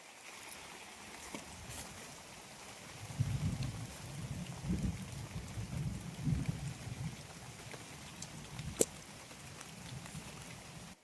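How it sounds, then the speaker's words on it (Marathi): Unseasonal May rain falling steadily in a Konkan garden with jamun, red champa and banana trees, a soft continuous patter with low gusty rumbles swelling in the middle, no voices. "हे काय दिवस आहेत का पावसाचे."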